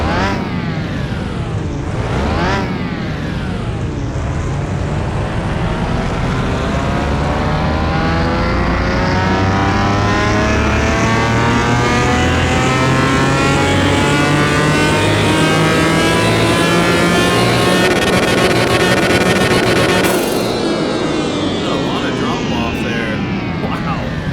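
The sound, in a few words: Pagani car engine revving on a dyno, Car Mechanic Simulator 21 video game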